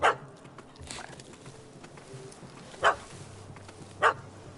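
Puppy barking in The Witcher 3, three sharp, loud barks spaced about a second or more apart over a quiet ambient game backdrop.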